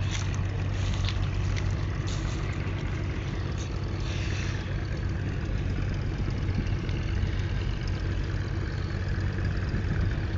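A small fishing boat's engine idles and chugs on a village river, a steady, low droning rumble that continues unbroken with faint ambient noise and no speech.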